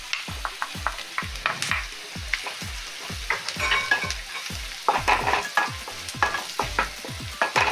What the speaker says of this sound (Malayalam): നമ്മൾ വെച്ച സബോള നന്നായിട്ട് ഫ്രൈ ആയി.